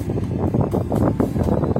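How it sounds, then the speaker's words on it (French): Strong wind buffets the microphone in heavy low rumbling gusts, loud and continuous throughout. "il y a énormément de vent"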